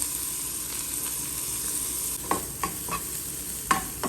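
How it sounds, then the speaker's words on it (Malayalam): Onion and green chilli frying in oil make a steady close sizzle, with a few sharp scraping stirs in the second half. "ഇതിനെ നമുക്ക് ആദ്യം ഉള്ളി മുളകും കൂടെ ഇട്ടൊന്ന് വയ്ക്കാം"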